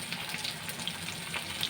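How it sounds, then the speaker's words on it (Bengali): Pabda fish frying in a pan as spiced water is poured over it, making a steady, close, dense sizzle that holds at an even level throughout with no voices. "মশলাগুলো যে জলটা আছে সেটা সুন্দর করে ওপরে দিয়ে দেবো।"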